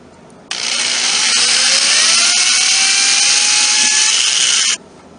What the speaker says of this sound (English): To drill the hinge pilot holes, I use a 5/64 inch drill bit